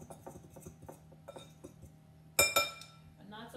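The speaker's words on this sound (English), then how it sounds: "grab a fork, just mix all those dry ingredients in together" A fork stirs dry cookie ingredients in a bowl. Faint soft scraping and light taps lead to two sharp, bright clinks against the bowl, heard close with a quiet voice in the background.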